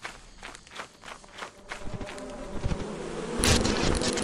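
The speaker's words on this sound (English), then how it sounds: "I hear bees." Bees buzz in and out in the video game Lethal Company over soft rustling and footstep-like thuds, with a brighter burst near the end.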